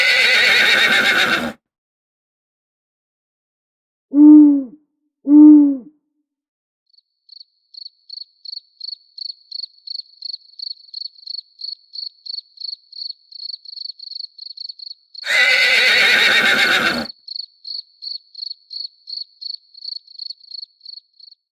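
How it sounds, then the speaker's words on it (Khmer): A horse in a Khmer fairy-tale cartoon gives loud, close whinnies: one long neigh, two short ones, then another long one, against steady rhythmic cricket chirping and faint hoofbeats. "តើមានអ្នកណាកំពុងជិះសេះឆ្ពោះមករកយើង"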